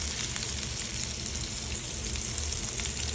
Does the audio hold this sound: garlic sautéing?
yes